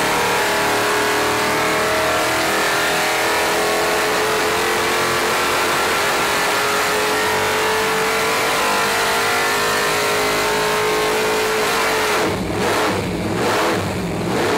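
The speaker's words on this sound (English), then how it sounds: "Ken Troutman made several pulls to ensure he was getting good, repeatable results." A car engine roars loudly at sustained high revs during a dynamometer pull on a test engine fitted with Pulstar spark plugs, the pitch climbing steadily before easing off near the end.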